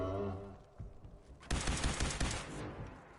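Gunfire in Fallout 4 against a Mirelurk, a rapid burst of shots cutting in suddenly after a quieter stretch, loud and rattling with a brief decaying tail.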